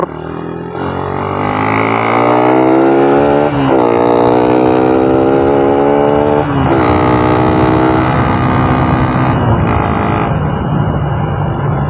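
A carbureted Suzuki Raider 150 motorcycle engine revs hard and loud up close, its pitch climbing in several rising sweeps that drop back between each blip.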